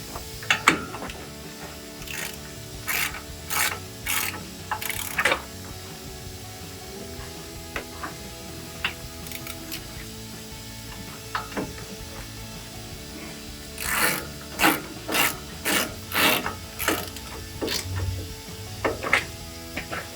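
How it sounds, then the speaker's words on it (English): A ratchet with a 21 mm socket tightens the front caliper bracket on a RAM 1500 pickup, making quick runs of close, crisp pawl clicks in rhythmic bursts separated by quiet pauses. "now I'm going to tighten up the caliper bracket, 21 socket, ratchet"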